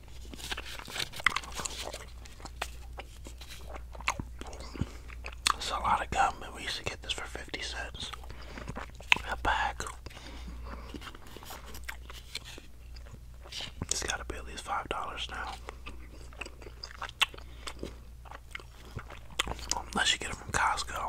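Bubble gum chewed close to the microphone, with wet, sticky smacks and squelches in an irregular rhythm and occasional soft whispering alongside.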